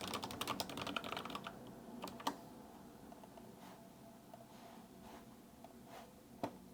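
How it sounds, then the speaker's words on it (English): Close, fast typing on a Logitech mechanical keyboard, a dense burst of crisp key clicks at first, then slower scattered keystrokes with a few sharper clacks against a quiet room. "I love this mechanical keyboard from Logitech"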